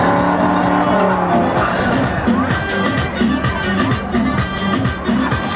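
Drag-racing cars including an Audi RS launch at a street drag event in Santa Ana Maya, Michoacán, with loud revving engines, squealing tires and crowd noise, and excited voices shouting over the racket.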